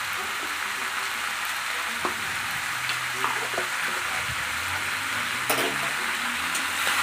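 Chicken stew with potatoes and salt stirred in a pan, a steady close sizzle of frying running through, with occasional soft scrapes and clinks of the spoon and no talking.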